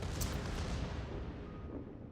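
Heavy naval gunfire in a World of Warships battle between the battleship Großer Kurfürst and an enemy firing 406mm and 420mm guns, a dense rumbling boom with sharp blasts rolling continuously through the whole stretch, with no talk.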